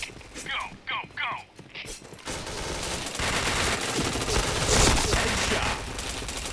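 Gunfire in the shooter game Point Blank opens with a few short separate bursts, then turns into a sustained, dense volley of shots that runs to the end, with speech mixed in.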